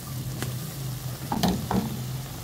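Taro and vegetables stirred in a cooking pot while a Filipino vegetable soup is made, giving a few soft scraping clinks against the pot over a steady low sizzle.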